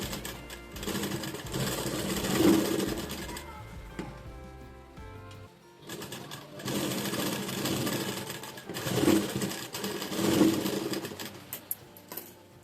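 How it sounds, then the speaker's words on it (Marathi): Domestic sewing machine stitching a blouse shoulder seam, running in several bursts of fast, even mechanical chatter separated by short pauses, close and moderately loud, with a brief lower motor hum between runs. "आतल्या बाजून आपण पेटी शिलाई करून हे शोल्डर जोडला"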